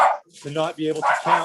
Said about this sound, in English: Sorry about the dog, they'll be quiet.